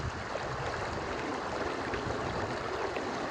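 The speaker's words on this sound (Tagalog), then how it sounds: "Tunog ng agos ng tubig." Steady rushing river water flows continuously with a broad, even hiss, close by and with no voices.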